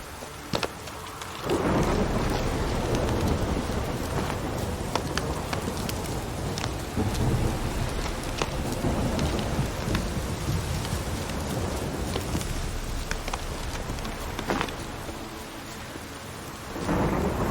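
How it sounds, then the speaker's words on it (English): Heavy rain pours down steadily in The Witcher 3, with several deep thunder rumbles rolling through the downpour, loud and continuous throughout. "This downpour's a bastard"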